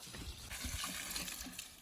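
Water pours steadily from a watering can onto garden plants, a close, continuous gushing splash with slight surges and no talk over it.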